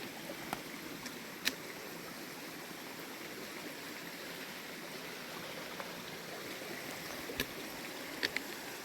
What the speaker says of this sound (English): starting our little creek crossings